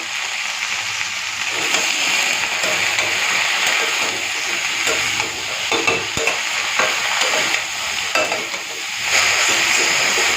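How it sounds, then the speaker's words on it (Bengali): Chopped mixed vegetables are stirred over lightly fried onion with salt and turmeric in a pan, giving a loud, steady sizzle broken by repeated scraping stirs, close up with no talking. "পেঁয়াজটাকে হালকা ভেজে নিয়েছি, এরপরে দিয়ে দেবো কেটে রাখা সব সবজি"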